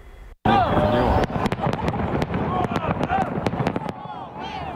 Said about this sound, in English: They gathered to watch an explosive fireworks display.